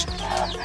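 A chicken kept at a rural family home gives a single brief cluck, quiet and close by.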